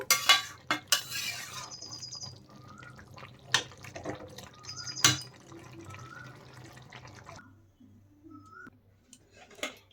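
Jackfruit and prawn curry finished with ghee is spooned from the pan into a bowl, with clinks of a spoon on metal and dishes, light wet plops and scraping, then a quiet stretch at the end.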